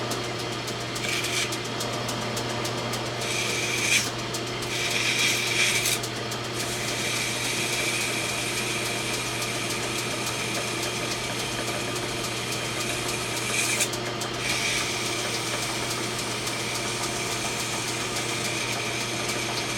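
320-grit sandpaper is held against a rifle barrel crown spinning on a lathe, giving a steady motor hum with soft rubbing and intermittent brief scratchy bursts, close and constant.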